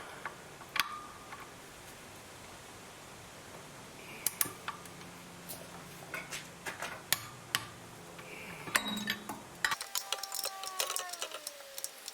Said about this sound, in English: So now I'm just torquing all the bolts.